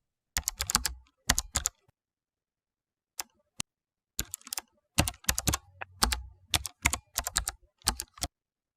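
Keystrokes from a computer keyboard as a case-sensitive password is typed to log in to Moodle, coming in close, crisp bursts of quick taps separated by short pauses.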